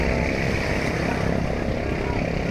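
A tourist boat's engine drones steadily and close during a village boat race, a continuous motor roar with faint voices mixed underneath.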